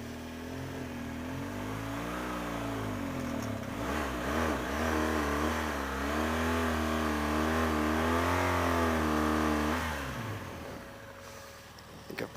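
A stuck motorbike's engine revs up and down at length with its clutch slipping, giving a loud, wavering whine that drops away near the end.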